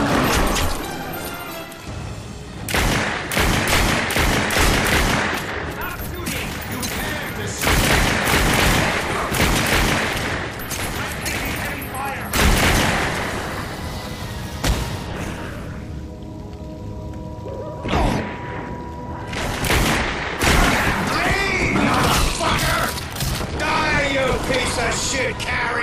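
Gunfire in the PC shooter The Darkness 2, loud repeated bursts and single shots in dense clusters across the whole stretch, with battle effects and voices shouting between volleys.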